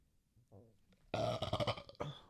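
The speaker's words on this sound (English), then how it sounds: "burp. That was a weird one." After some quiet murmuring, a loud, drawn-out burp rumbles and gurgles for nearly a second, trailing off with a short final croak.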